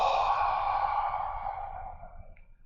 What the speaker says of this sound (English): We'll breathe in for about 4 or 5 seconds, hold it at the top for a few seconds, and then exhale.